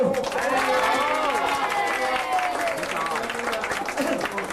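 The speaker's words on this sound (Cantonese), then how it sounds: "各位拍下掌聲。" Birthday celebration crowd clapping, dense continuous applause from many hands throughout, with a voice singing a tune over it.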